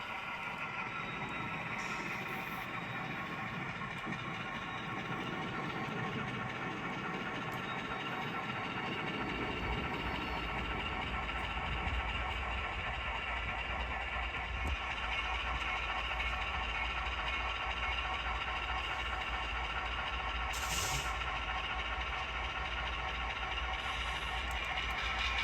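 HO scale model railroad locomotive on an RJ Corman local layout, running with a steady low motor hum and rumble that holds throughout, fairly close, with no talking.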